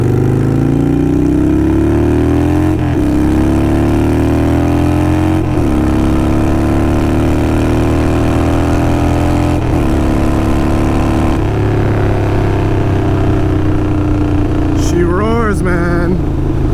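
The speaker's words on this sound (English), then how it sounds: "by no means is this a quiet exhaust" A Harley-Davidson Sportster 48 fitted with Kinetic 540 Laterals exhaust rumbles loud and close while riding, its engine note rising and falling through several gear changes, with someone talking briefly near the end.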